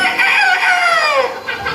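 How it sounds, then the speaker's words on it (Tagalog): A rooster crows once, close and loud, its call rising then falling in a drawn-out cock-a-doodle-doo. "May manok na naman."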